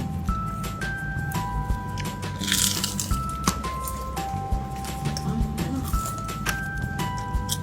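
Crunchy fried seafood, including fried shrimp, being bitten and chewed close up, giving repeated crisp crunches over a steady restaurant background with faint electronic tones.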